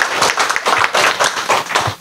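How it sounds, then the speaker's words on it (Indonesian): Audience applause at an election-supervision training session for 2024 poll witnesses, a loud, close burst of clapping with a pulsing rhythm as hands strike in rough unison. "Tepuk tangan untuk sahabat-sahabat semua."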